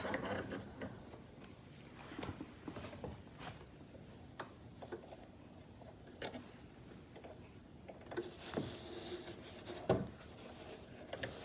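A sewing machine runs top stitching in gold thread along a tote bag strap about an eighth of an inch from the edge, giving faint, quiet mechanical ticking and clicking in short irregular bursts against a soft background.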